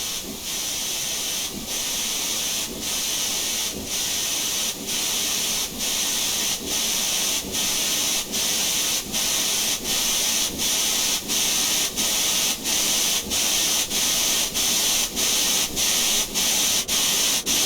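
Loud, continuous steam hiss from the open cylinder cocks of a WD 2-8-0 steam locomotive in Train Simulator Classic, broken by steady rhythmic chuffs that gradually quicken as the engine gets moving.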